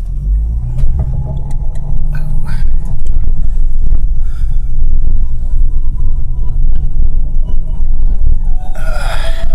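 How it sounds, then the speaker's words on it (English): A Saab drives along the road towing a donor Saab 9000 on a trailer hitch, a steady low engine rumble and road throb filling the whole stretch, with brief rattles and a faint voice near the end. "I figure first off we might as well use this car to tow the donor car"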